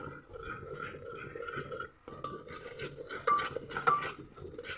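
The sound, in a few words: ground masala paste cooking in oil, stirred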